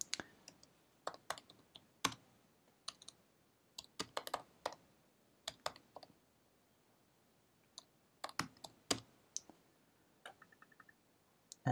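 A computer keyboard clatters in quiet, close bursts of irregular typing, with separated clicks and short quick runs of keystrokes while text is entered in the GIMP image editor.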